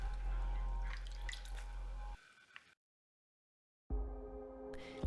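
Water drips and squishes while wool felt is re-wetted for a stop-motion ground cover, with close wet splatters followed by a silent gap and then a faint hum.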